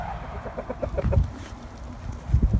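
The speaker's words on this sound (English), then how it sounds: "So this is what we call the aviary anyways. More chickens, more eggs." Chickens cluck repeatedly inside a farm aviary, a run of short, close clucks in an uneven rhythm with livestock murmuring around them, with no speech.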